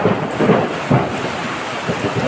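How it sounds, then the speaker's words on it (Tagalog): Low thunder rolls and rumbles through steady heavy rain in Bacoor, Cavite, loud and close, with dull booming swells over the constant hiss of rainfall. "Wow, kumukulog pa"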